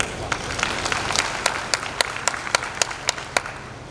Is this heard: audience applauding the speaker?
yes